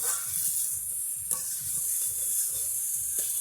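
Chicken leg pieces frying in a pan, with a steady high sizzle and repeated low scraping strokes as the pieces are stirred, close and continuous without talk.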